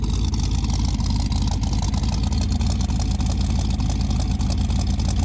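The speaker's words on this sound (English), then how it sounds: "these GoPros pick up a lot of engine noise" A car engine with a solid lifter cam, not started in a while, idles steadily with a loud, rough, continuous rumble and a faint ticking clatter throughout, close by.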